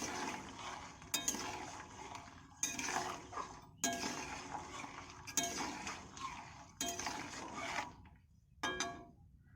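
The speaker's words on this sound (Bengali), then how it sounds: "এখন এটাকে আমি গলিয়ে নেব, তাই জন্য একটু নাড়াচাড়া করছি।" Jaggery dissolving in water in a pot is stirred with a utensil, giving repeated bursts of scraping and clinking against the metal about every 1.5 seconds, close and moderately loud with short quiet gaps between strokes.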